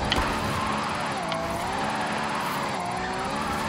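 A Ferrari Monza SP2 drifting through Forza Horizon 5's Mexico setting, its engine droning steadily with wavering pitch as it slides, loud and continuous for a few seconds with no talk.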